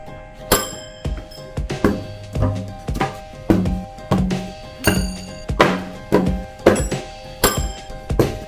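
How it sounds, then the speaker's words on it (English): Little rubber shuriken are thrown one after another at a target, each landing with a sharp, close thunk in a steady rhythm of about one and a half hits per second, with no talk. "Some little rubber shuriken for fun."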